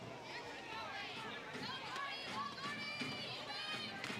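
Crowd noise at a professional softball game, a steady murmur of chatter and voices from a packed stadium with children's calls and cheers rising over the hubbub.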